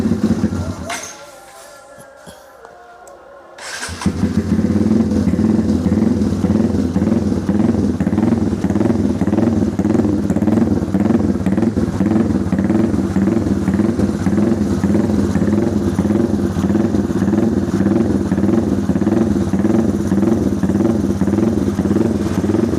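A Honda CRF150L motorcycle bored up to 210cc runs steadily after a short quiet pause, its engine holding a loud, even, throbbing idle up close with a busy mechanical clatter.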